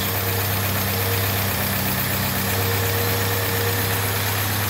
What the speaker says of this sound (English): I could probably even idle it down a little lower, but it's probably good like this.